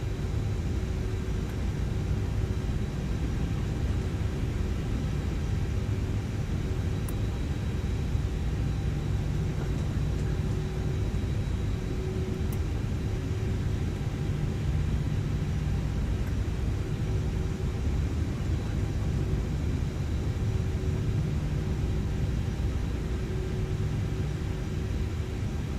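Airliner engines in the X-Plane 12 flight simulator taxiing toward the gate at San Francisco, a steady low rumble and whine held at constant level throughout, with no talk.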